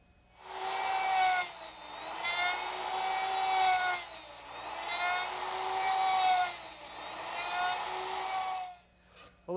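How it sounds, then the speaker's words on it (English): Router cutting pins on the side pieces of a wooden chair, a high whining motor that dips under load in three passes, loud and close, then spins down. "I just take the side pieces and slide them in and cut the pins with the router"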